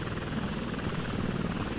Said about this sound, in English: That is a big boy helicopter coming in very hot on a very hot airstrip.